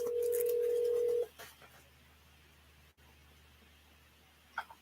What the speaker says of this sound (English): So let me give Kathie a call and we'll get this started